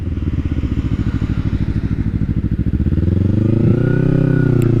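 A 2012 Kawasaki Ninja 250R motorcycle making a U-turn, its small twin-cylinder engine loud and close, a steady pulsing idle that climbs into a smooth rising rev as the bike pulls around.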